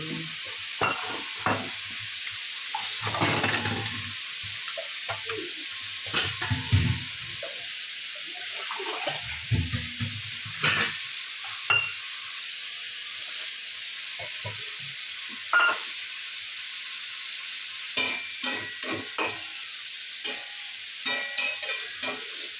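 Ground spice paste hits a hot pan in a home Bengali kitchen, frying with intermittent sizzling bursts and stirring scrapes, fairly close and moderate in volume, with no talk.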